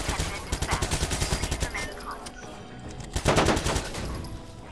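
Watch Dogs 2 gunfight with rapid automatic fire rattling steadily, building to a louder, denser burst near the end, while voices talk over the shooting.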